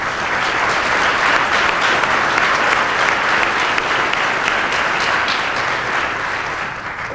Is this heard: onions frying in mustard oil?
no